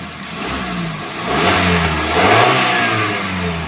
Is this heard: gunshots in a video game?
no